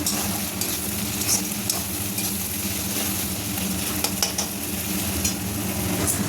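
Meat stir-fried in spices in a hot pan, a loud continuous sizzle with spatula stirring and scraping close by, no talking.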